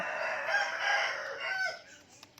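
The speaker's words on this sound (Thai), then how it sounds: "เสียงไก่ดังมากเลยค่ะ" A rooster crows once, a loud drawn-out call from fairly close, followed by a faint tail of background noise.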